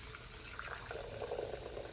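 Freshly boiled water poured into a coffee maker for homemade coffee, a steady faint liquid stream that swells slightly partway through, with no talking.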